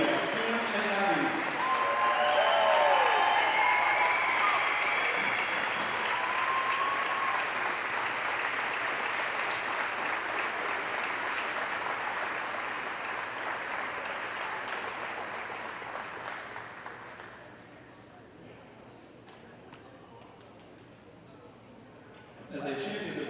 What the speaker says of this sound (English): Please join me in giving one more big round of applause to our three seniors